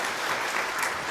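An audience applauds for interns, dense steady clapping close by and filling the whole short stretch, with no voices over it.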